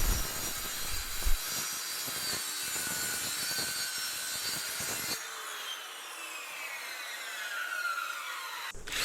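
A power saw grinds loudly through wooden boards trimmed for a shed door, then the cut ends and the blade whines as it spins down.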